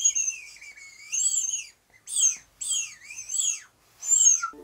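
Birdsong imitated by blowing into the head joint of a flute: a series of bright, sliding whistled chirps in separate bursts, some wavering and swooping up and down, clear and close with silent gaps between phrases.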